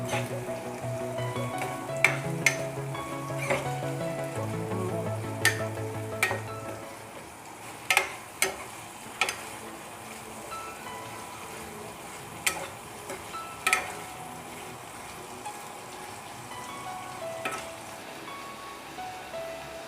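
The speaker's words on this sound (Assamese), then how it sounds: "ইয়াতে মই এতিয়া মাছখিনি দি দিম অলপ ভালদৰে লৰাই দিম" Pieces of catfish fry in hot oil with onions in a pan for an Assamese curry, a steady sizzle under repeated sharp scrapes and clacks of a spatula stirring, close and moderately quiet, with no talk.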